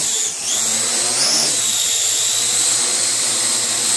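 The motors of an AR.Drone 2.0 quadcopter spin at high RPM with a loud, steady, high-pitched whine that shifts in pitch, close and continuous with no talking.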